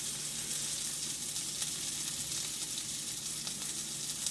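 A homemade burger patty sizzles and fries steadily in a pan, a continuous close, even crackle with no talking over it.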